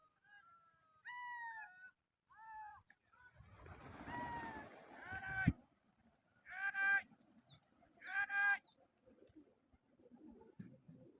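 Pigeons calling and cooing in a series of short repeated bursts, separated by quiet gaps, with a broader noisy flurry partway through and faint background sounds.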